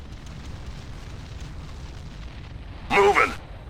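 A single heavy explosion bursts in the real-time strategy game Ground Control during an artillery bombardment, a short loud boom near the end after quiet background rumble.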